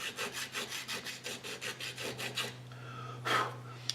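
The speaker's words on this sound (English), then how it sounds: "So I'll just keep filing away here until this one's really nice." Rhythmic rasping of a file worked over the wooden hull of an old model boat, about ten close, steady strokes in the first half, then a low hum with one brief scrape near the end.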